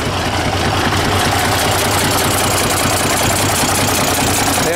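An old six-cylinder diesel tractor engine runs close by, a loud, dense, rumbling clatter that holds steady and unbroken the whole time.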